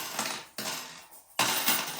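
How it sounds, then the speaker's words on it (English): Three bursts of jingling, clattering metal as coins spill out of a zippered coin purse onto a hard surface, close and fairly loud, with short gaps between pours. "That's what you're hearing is the cash that I'm dumping out of my"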